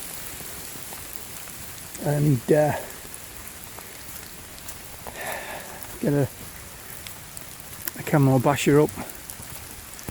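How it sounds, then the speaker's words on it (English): Rain falls steadily through a wood on a wild camping walk, a soft continuous patter under a man's intermittent speech. "Here comes the rain."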